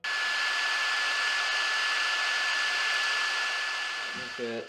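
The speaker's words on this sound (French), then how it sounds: "cet ordinateur qui est assez ancien mais qui fait l'affaire pour les montages, même si le problème c'est qu'il fait du bruit" Constant loud whooshing fan noise from an old HP desktop computer, a steady airy hiss with a thin high whine running throughout, close by, fading slightly at the end with a brief voice.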